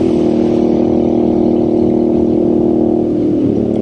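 A Royal Enfield Scrambler 650 motorcycle's engine pulls hard under acceleration on a scenic road, its loud, close, steady drone holding a firm pitch throughout.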